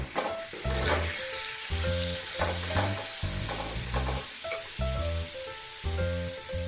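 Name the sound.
potatoes frying in pan for chicken chowmein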